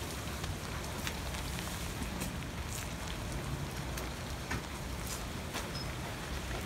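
Steady rain falls outdoors, a dense, even hiss of drops with occasional sharper patters, continuous and close throughout.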